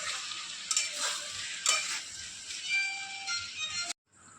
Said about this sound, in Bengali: এরপর এগুলোকে সব একসাথে একটু কষিয়ে নেব।